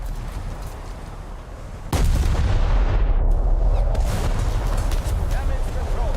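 Naval guns firing in a War Thunder naval battle, a sudden heavy boom at about two seconds that rolls into a sustained loud rumble of battle noise.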